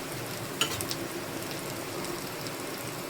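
Dhapate flatbread fries in oil poured around its edges in a pan, giving a quiet, steady crackling sizzle with a few faint louder pops early on, and no talking.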